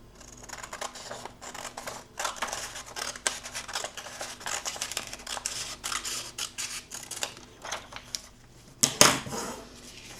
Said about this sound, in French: Je vais découper le long de mon trait.